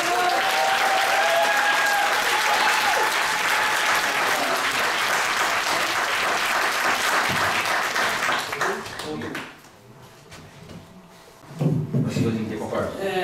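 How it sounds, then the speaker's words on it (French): A school assembly crowd claps steadily for a student receiving an award, loud and sustained for several seconds before fading, followed by a brief burst of clapping and a voice at the end. "J'aimerais qu'on l'applaudisse."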